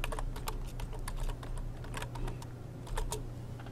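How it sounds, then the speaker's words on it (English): Fingers type on a computer keyboard, a quick close run of light clicking keystrokes with uneven rhythm and occasional louder taps over a low steady hum. "So I'm going to go ahead and type that in."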